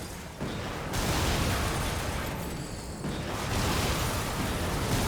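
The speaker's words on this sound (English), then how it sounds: "Explosion." Explosion in the video game Darksiders II, a dense roaring blast that sustains as a thick rumbling wash of noise for several seconds.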